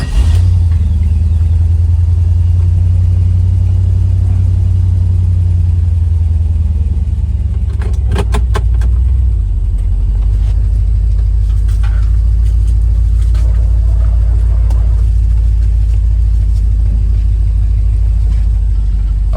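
Loud, steady low engine rumble from a pickup truck with a 6.0 engine, idling then pulling away and driving along, with a few brief clicks and knocks partway through and no talk.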